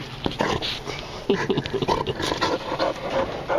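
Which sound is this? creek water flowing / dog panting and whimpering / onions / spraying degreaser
dog panting and whimpering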